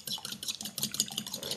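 Muffin batter ingredients for carrot and pineapple muffins beaten together in a bowl, quick irregular clicks and scrapes of a utensil against the bowl, close and steady with no talking.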